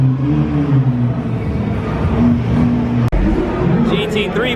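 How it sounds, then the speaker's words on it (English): A Porsche GT3 with a manual gearbox rolls into a busy underground car meet. Its engine idles and rumbles low and close under crowd chatter, and a sharp knock cuts in near the end. "GT3 pulled up."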